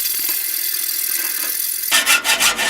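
A hand saw grinds back and forth through a metal bolt in a workshop, a steady rasping stroke that turns into louder, rhythmic pulled strokes near the end, with no talking.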